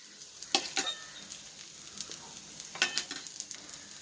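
Bursts of crackling sizzle as oil hits a hot pan, flaring twice and then settling into a quieter, steady frying hiss.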